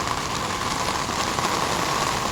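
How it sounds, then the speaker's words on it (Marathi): Heavy monsoon rain pours steadily on the western belt of Junnar, a dense, continuous hiss of downpour close by with no voices. "जुन्नरच्या पश्चिम पट्ट्यामध्ये पावसाचा जोर वाढला आहे।"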